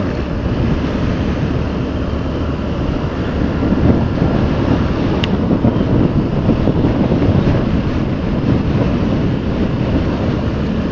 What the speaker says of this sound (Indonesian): Hari ini tumben banget nih, anginnya kencang banget.